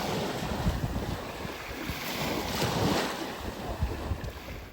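Ocean waves wash onto a beach in a steady, broad roar, with gusty wind buffeting the microphone throughout and no voices.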